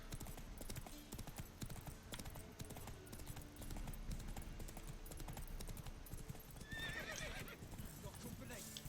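A horse in The Witcher 3 clip-clops steadily, then gives a bright neigh near the end, with game dialogue and voices speaking over the hooves.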